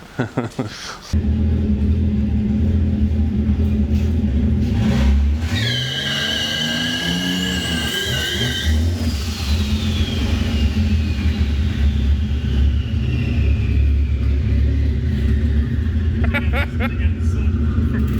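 A turbo V12 swapped into a Toyota Cressida revs hard during a skid, a loud, close roar with rising and falling engine pitch and tire squeal, while people talk and shout over it.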